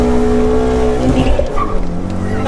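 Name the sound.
modified BMW 116i engine at full throttle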